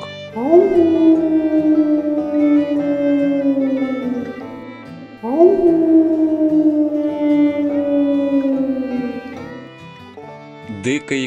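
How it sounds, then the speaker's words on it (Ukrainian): Wolf howling in a children's forest animal sounds collection, two long, loud, slowly falling howls each lasting about five seconds, with a soft musical background underneath and no talking. "Вовк."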